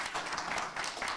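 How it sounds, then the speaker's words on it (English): An audience at a security forum session applauds the panelists, with steady, dense clapping filling the room throughout, close and even in level without any voice over it. "Let's give a round of applause to our panelists"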